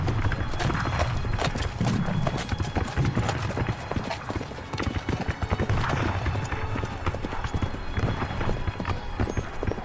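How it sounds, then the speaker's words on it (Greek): A horse gallops on a battlefield, its hooves drumming fast and loud in a continuous rhythm, with whinnies rising over the pounding. "ανέβηκε στο άλογό του και έτρεξε στο πεδίο της μάχης"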